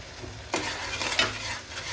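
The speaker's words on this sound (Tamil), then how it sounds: "இது நல்லா வதங்கி அந்த எண்ணெய் பிரிஞ்சு வர வரைக்கும் இதை வதக்குவோம்." Garlic, onion and greens sauté in oil, a soft sizzling bed broken by two distinct scraping strokes of a spatula stirring the pan, close and moderately loud, with no voices.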